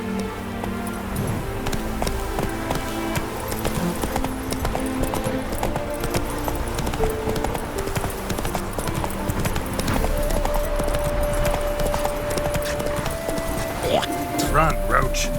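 Hooves of the horse in The Witcher 3 clip-clop in a fast steady rhythm as it runs, loud and continuous, mixed with game ambience and a rising tone near the end.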